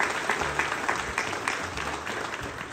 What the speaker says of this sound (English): Round of applause for that team